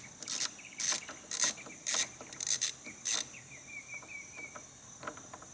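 A 15/16 Allen socket on a ratchet wrench loosens the cap on a Lowrance Ghost transducer, with a series of close, crisp ratcheting clicks in about six bursts, then fainter ticking.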